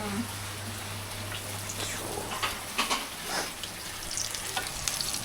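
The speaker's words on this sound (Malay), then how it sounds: "saya tengah bakar kambing" Goat meat cooking in a pot at a festive gathering gives a steady sizzle with stirring scrapes, under a constant low hum, with occasional nearby voices.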